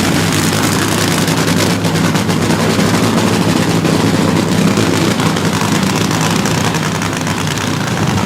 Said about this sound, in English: Funny cars are the finest exhibition of horsepower and speed going right now.